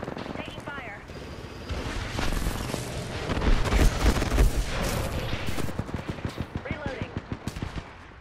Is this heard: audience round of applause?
no